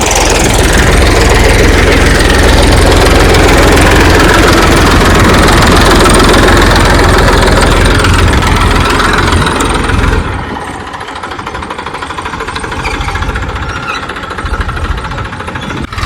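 A tractor engine runs loud and close with a heavy, rough roar for about ten seconds, then continues more quietly at a lower level. There is no speech.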